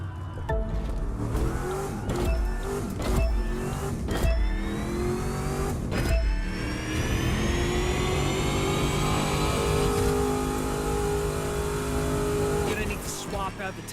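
A car engine in The Crew 2 racing game revs hard and accelerates with nitro boost, rising in pitch through gears with sharp shift breaks, loud and continuous, with a voice talking over it.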